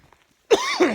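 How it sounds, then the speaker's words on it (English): After a near-silent moment, one loud, close cough or throat-clearing bursts out, followed by a rasping second push that trails off, with no talking. "you're going to have to excuse the coughing"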